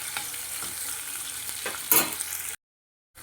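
Sliced onions sautéing to brown in a pan for a chicken dish, a close continuous sizzle with stirring scrapes and a sharper burst near the end before sudden silence.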